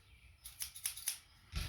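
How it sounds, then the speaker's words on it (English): Scissors snip through hydrographic dipping film in a few quick, close, crisp cuts, faint and alone with no talk. "You want to take your scissors."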